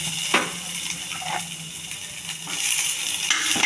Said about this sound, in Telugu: కొద్దిగా ఉల్లిపాయ,